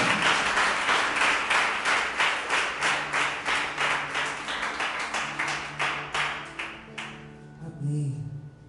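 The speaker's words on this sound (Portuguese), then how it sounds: "Aplaude geral, então, vai." Church congregation clapping together in a steady, fast rhythm, a dense roomful of hands beating in time for several seconds before fading out, with a few voices near the end.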